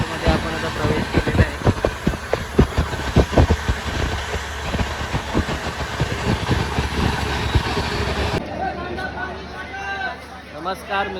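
A train at Durg station in Chhattisgarh, with engine rumble, rattling and clanking carriages under a busy platform crowd babble and talk, becoming quieter and thinner near the end.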